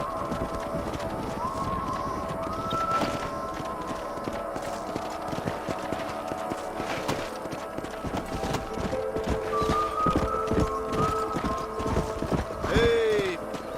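Rhythmic hoofbeats of horses galloping in Red Dead Redemption 2, clattering along continuously, with a brief whinny near the end and faint voices mixed in.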